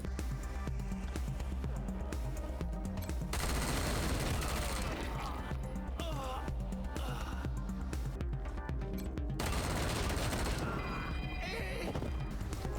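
Gunfire from a shootout in the video game Wasteland 3, with repeated shots and crashing impacts over game music and a steady bed of sound throughout.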